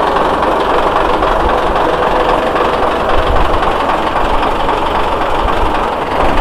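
A Mitsubishi 6D16 diesel engine mounted in a composite boat hull runs on test, a loud, close, continuous rumbling drone with rapid mechanical clatter and no talk.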